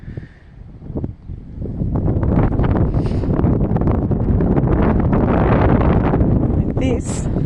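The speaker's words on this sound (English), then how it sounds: "Whoa, that wind," Strong wind buffets an outdoor vegetable garden, a steady loud rushing roar that swells after the first second and holds, with faint rustling throughout.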